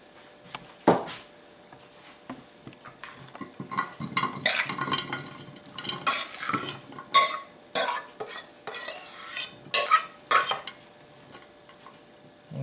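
Thawed blueberries with tapioca and lemon juice go into a pan for a cobbler, giving a run of close clattering, scraping and wet tumbling bursts that build into repeated spoon-and-pan knocks.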